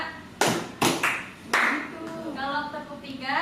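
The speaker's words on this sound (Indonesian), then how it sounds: "Kalau tepuk 2" A teacher leads a classroom clapping routine, with a few sharp, close hand claps spaced unevenly between her spoken instructions.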